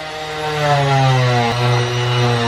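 Power tool cutting into 3/16 inch thick aluminum on a horse trailer, a loud steady motor whine with a strong buzzing tone that dips briefly midway, close and without talk.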